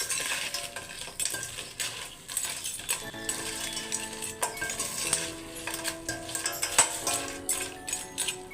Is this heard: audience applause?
no